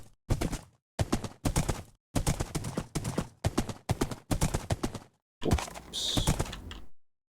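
Horse hooves from a video game clop in short, evenly spaced bursts, loud and close, separated by brief silences, with a longer burst at the end.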